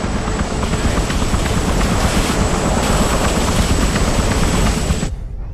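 A helicopter flies an exfiltration in the video game Hitman, a steady loud whooshing rotor roar with a thin high whine that holds for about five seconds and then cuts off abruptly.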